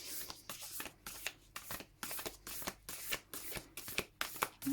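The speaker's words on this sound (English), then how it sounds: "this is a really big deck, so it's a little bit awkward to shuffle" A large Crystal Mandala Oracle card deck is shuffled by hand, a series of crisp riffling bursts in an irregular rhythm with short pauses between, close and clear.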